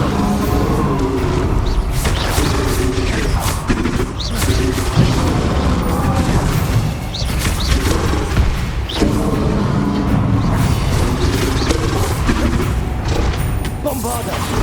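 Repeated booming spell blasts from Bombarda in Hogwarts Legacy, several heavy detonations spread through a dense game mix of combat clatter and music, with a character shouting spells over them.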